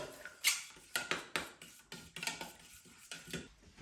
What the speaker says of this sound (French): comme mon lait de coco, il n'est pas liquide, je me suis pris un fouet